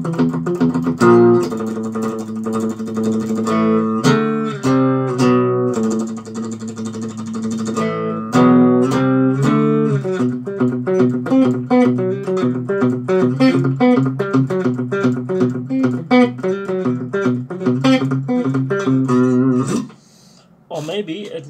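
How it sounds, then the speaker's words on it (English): Electric guitar riffs normally played with distortion, here played clean and undistorted, with strummed chords and single-note runs in a lively, continuous pattern, close and alone before a brief pause near the end. "play things which I usually played with distortion without distortion"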